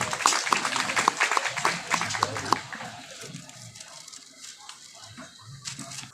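Applause from a mushaira audience for a poet at a banquet hall in Bahawalpur, a burst of clapping with a few sharp claps that fades after a few seconds, mixed with crowd murmur and some speech.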